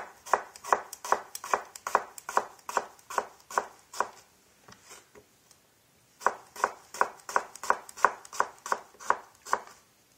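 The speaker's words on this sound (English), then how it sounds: "And then, remember the eggplants. Just cut in half, slice it." A knife chops steadily through halved eggplant on a board, a fast even run of close, crisp strokes, a brief pause, then another matching burst, with no talking.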